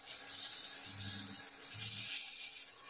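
Water runs into a pot of rice and spices for a Bengali potol and rice dish, a faint, close trickle that swells in two short bursts.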